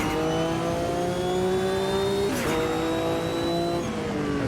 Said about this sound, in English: Well done to Automobilista too, making these cars sound absolutely amazing.